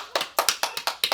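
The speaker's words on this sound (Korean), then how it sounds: "여러분 아미분들한테 박수 한번 치고" A few hands clapping in short, irregular bursts, about seven sharp claps within a second, close and moderately loud, as a small group applauds ARMY fans during a talk about a 2019 BTS tour.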